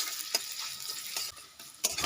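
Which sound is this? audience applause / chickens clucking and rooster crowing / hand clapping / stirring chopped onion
stirring chopped onion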